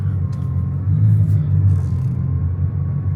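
A Bugatti Chiron Pur Sport drives along with a steady, loud low engine rumble that swells slightly in the middle, with no voices.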